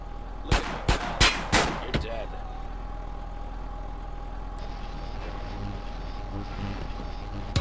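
Gunfire in GTA San Andreas: about four sharp, loud shots in quick succession near the start, followed by a lingering in-game street ambience with a steady tone and faint background activity.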